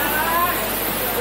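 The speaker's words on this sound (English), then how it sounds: "enjoy listening to the alluring sound of water that flows calmly and drops" Water pours steadily at Sungai Pisang waterfall, a dense and continuous rushing wash that stays loud and even throughout, with no breaks.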